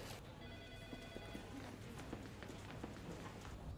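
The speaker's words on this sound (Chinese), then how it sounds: "我先接个电话啊。" A telephone rings in an office setting in a legal drama, its repeated electronic tones faint and brief over a steady background hum.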